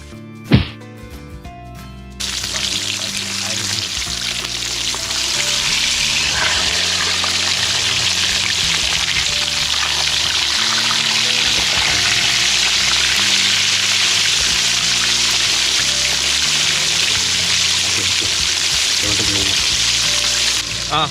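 Sea bass fries in hot oil, giving a dense, steady sizzle that carries on close and continuous after a sharp knock at the start. Music plays underneath throughout.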